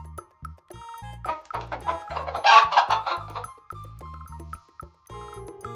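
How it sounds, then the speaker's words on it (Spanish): Farm hens cluck in a quick run of short, sharp, close calls that rise into a louder burst midway, over faint steady background tones. "Las gallinas se comunican con más de 30 sonidos diferentes"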